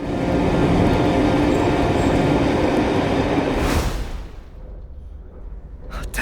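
Passenger train rumbling loudly through a tunnel, a dense steady roar that drops suddenly to a quieter interior hum as the carriage exits, with a faint rattle near the end.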